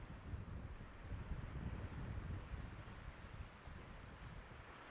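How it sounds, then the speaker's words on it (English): Steady wind and surf on the beach at New Brighton, a continuous low rushing roar with gusty buffeting against the microphone and no voices. "So I am on the beach in New Brighton."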